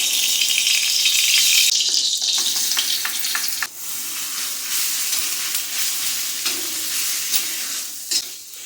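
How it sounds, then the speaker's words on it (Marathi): Green chili kharda sautés in oil on a tava with a loud, close, continuous sizzle. Stirring scrapes and taps come through at intervals, and the hiss eases a little partway through. "तर हा बघा खरडा आता जर असं तुम्ही तेल टाकून मी याला तव्यामध्ये जरा परतून घेते"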